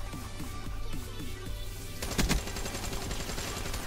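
Light machine gun fire in Black Ops 3 hardcore mode chatters in rapid, steady bursts, first moderately loud, then rising into a denser, louder volley with a sharp blast in the middle.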